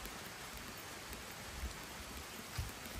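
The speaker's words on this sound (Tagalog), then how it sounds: "Hala, nag-ulan na." Steady rain falling at Malatan-og Falls, a soft even hiss with a few faint drops, quiet and continuous, no voices.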